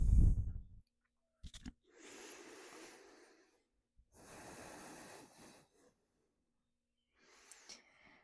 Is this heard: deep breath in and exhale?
yes